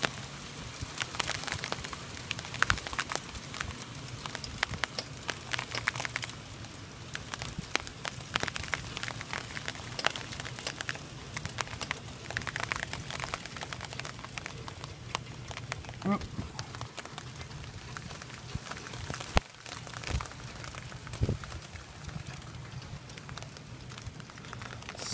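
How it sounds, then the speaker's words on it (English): Hail falling in a hailstorm makes a dense, steady, fairly faint patter of small impacts that runs throughout, with a voice talking over it at times. "Yeah, that's hail, alright."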